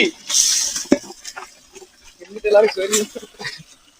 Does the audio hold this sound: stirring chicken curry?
yes